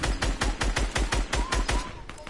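Gunfire in Fortnite Battle Royale, a loud close string of about a dozen sharp shots at a steady quick rhythm, with a faint voice-chat murmur underneath toward the end.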